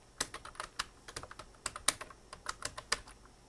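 Someone types a title on a computer keyboard, with a steady stream of close, crisp key clicks in an irregular rhythm and no talking.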